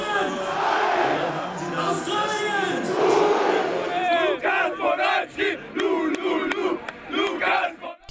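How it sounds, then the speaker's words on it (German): German football fans in black, red and gold roar and cheer for their team during the World Cup. The loud crowd swells at first, then gives way to shouting voices and bursts of cheering. "Und sie jubelten oft."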